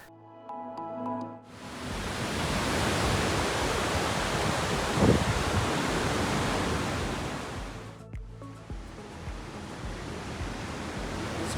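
The Azat River rushing along the bottom of a gorge, a broad, steady roar of flowing water that swells up after a quiet start and carries on with little change.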